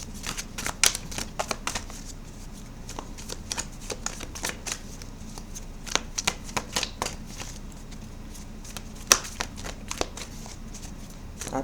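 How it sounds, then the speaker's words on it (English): Tarot cards are shuffled and flipped close by, a steady run of crisp riffles and snapping card flicks repeating throughout with no talking over them. "So if you see me flipping the cards around"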